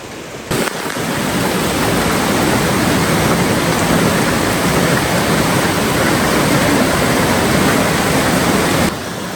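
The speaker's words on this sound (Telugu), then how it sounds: "వాటర్ ఫాల్స్ చూడండి." A waterfall at a temple in Kerala produces a loud, continuous broadband roar of rushing and crashing water that holds steady throughout, close and with no voices.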